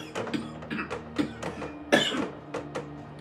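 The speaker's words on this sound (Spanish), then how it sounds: "me van a oír toser" Several short, harsh coughs and throat-clearing bursts scattered across a few seconds, close and fairly quiet, with faint mechanical clicking in the background.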